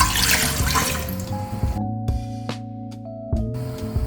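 Water is poured into a cooking pot to boil sago for pineapple payasam, a close splashing gush for about two seconds that settles into a resonant trickle and fades.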